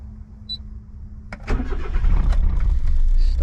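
A Suzuki Alto Works K car's engine cranks briefly, then catches and settles into a steady, loud idle that grows slightly fuller as it runs. Nearby and unaccompanied by talk.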